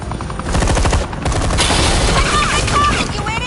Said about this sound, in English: Hey, you cops can't just shoot people like that.